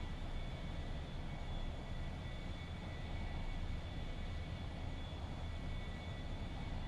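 Airplane engine drone as the throttle is pushed up in flight, a steady loud, close hum with a constant tonal whine above it, running unbroken and alone throughout.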